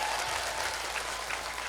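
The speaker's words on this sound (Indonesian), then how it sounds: "Tepuk tangan dulu buat muslimat" Audience applause at a religious gathering at a mosque, a dense continuous wash of clapping from a large crowd filling the short moment.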